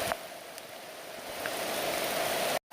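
Steady rain falling on a rocky forest trail among ferns, a dense even hiss with occasional nearby drips that continues unbroken until a brief cutout near the end.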